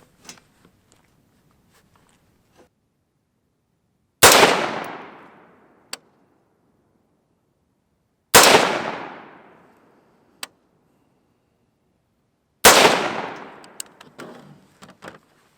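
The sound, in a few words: gunshots from an AR-15 rifle firing .223 ammunition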